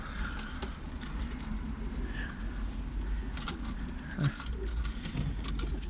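Soft pigeon coos sound faintly in a quiet, freezing winter outdoor setting, with light background noise and an occasional bump.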